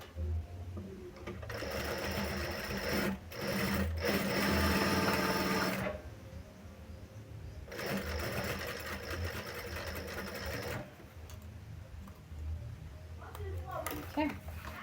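A sewing machine runs top stitching along the edge of a sling bag in steady, close, buzzing runs. It stops briefly between passes while a person talks over and between the stitching.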